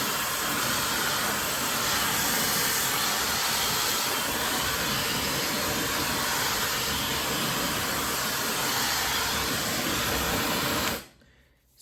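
An ionic high-speed blow dryer with a brushless motor, run without its nozzle, blows a steady, loud airy whir while drying freshly washed hair, then cuts off abruptly near the end.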